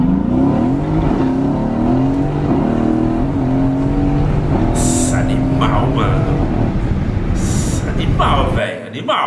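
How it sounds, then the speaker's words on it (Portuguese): A Mercedes sedan accelerates nearby, engine note climbing through a long rising sweep with a gear change, while people talk over it and a brief sharp noise cuts in near the end. "Vamos ver acelerando aqui essa Mercedona."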